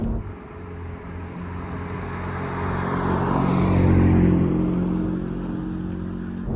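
Volkswagen Golf GTI 7 with a 340 hp front-wheel-drive engine being driven, a steady engine drone that builds to a peak midway and then eases off, with no talking.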